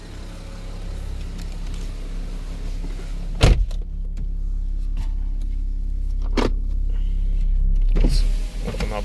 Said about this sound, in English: Open up the windows so you can hear it.